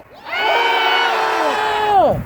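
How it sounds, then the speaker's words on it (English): A crowd of marchers at a protest against pretrial detention lets out one loud, sustained collective yell, rising together and holding for about two seconds before cutting off, close and alone. "we're going to get real loud. Somebody yell, ah!"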